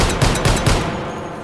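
A Desert Eagle .50 AE pistol fires in the VR shooting game H3VR, a few loud, close booming shots in quick succession followed by a fading tail.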